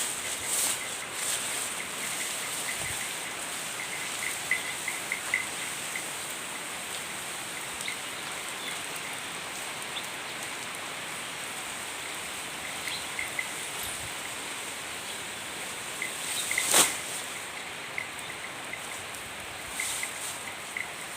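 Steady rain falls outdoors in rural Thailand as a dense, even hiss that lasts throughout, with a few sharper drips and one brief louder knock near the end.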